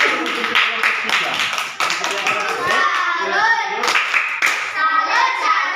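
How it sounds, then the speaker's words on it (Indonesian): A fourth-grade classroom of children claps together for a presenting group, a burst of close, rapid hand claps mixed with kids' voices and chatter. "Tepuk tangan untuk kelompok 3."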